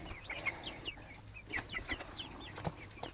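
Chickens cluck and chatter in a small backyard coop on a farm during morning chores, several birds at moderate distance making repeated short, irregular clucks, with faint ambient noise and no talking.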